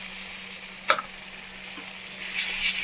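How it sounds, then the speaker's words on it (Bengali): Ginger garlic paste and spices sauté in hot oil for a fish curry, making a low steady sizzle with a sharp stirring clack near the start and a few lighter scrapes, no talking. "ভালো করে মশলাটা কষিয়ে নিতে হবে একদম এইভাবে ভালোভাবে মশলাটা একটু কষিয়ে নিচ্ছি"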